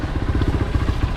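A Hero Xpulse motorcycle with 21-inch wheels rides off-road on a temple trail, its engine giving a steady, rough, pulsing chug close by, with faint clatter from the bumpy ground.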